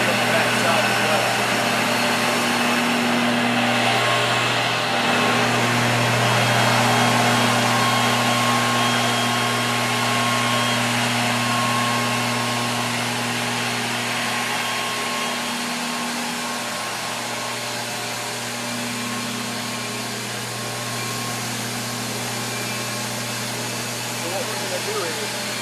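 Boiler and generator machinery running inside a university physical plant, a loud, steady mechanical drone with strong low hum tones and broadband roar that continues unbroken throughout.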